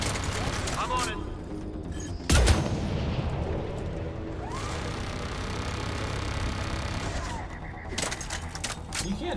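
Gunfire in Mass Effect 3 crackles through a battle, a loud burst of shots near the start followed by scattered weapon sounds and combat noise, with voices talking throughout.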